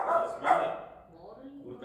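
A newly acquired dog gives two sharp barks close by in a home, followed by quieter whimpering tones as the sound fades.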